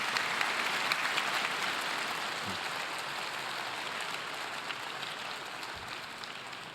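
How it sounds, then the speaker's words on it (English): Applause from an audience at a YMCA 175th anniversary celebration, a steady wash of many hands clapping that holds at an even level throughout and fades slightly toward the end. "Can we give them another round of applause"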